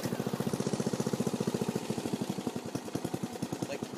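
Small single-cylinder engine of a riding lawn tractor idling low and uneven after carburetor cleaning, a close, loud, rapid chugging pulse that slows and loosens slightly toward the end.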